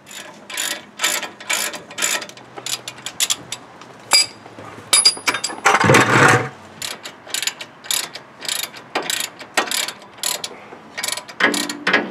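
A hand ratchet clicking in short uneven bursts while working on the front brakes of a Ford F-350 dually during a rotor, pad and bearing job, close and clear with a brief louder scrape in the middle.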